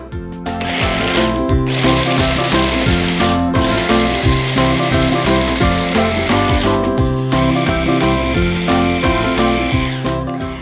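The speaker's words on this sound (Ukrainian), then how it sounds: "І тепер цю всю масу подрібнюємо в блендері." Electric blender pureeing beetroot hummus, a loud continuous motor whir with shifting tone as the thick mass churns, steady for the whole stretch with no talk.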